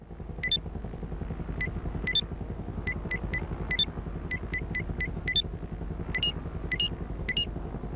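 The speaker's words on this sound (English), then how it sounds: "In GTA Online, there's a random glitch that distorts your phone's sound effects." In GTA Online, a glitch distorts the phone sound effects. Sharp electronic beeps and tones tap out irregularly over a constant low, buzzing rumble that muddies the background.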